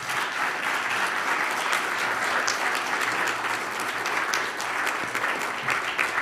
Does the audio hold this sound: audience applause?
yes